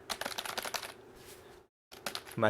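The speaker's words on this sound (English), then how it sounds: "clickety clackety USB keyboard" A clicky USB computer keyboard clatters in quick bursts of sharp keystrokes up close, then pauses in a brief silence before resuming with a few more clicks and a low thud.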